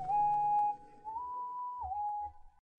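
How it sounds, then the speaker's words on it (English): A winter whistle synth lead from the Purity plugin in FL Studio plays a clean, pure whistling tone that holds one note, then slides up and back down, quiet and alone. "I think it's called the winter lead or the winter whistle, something like that."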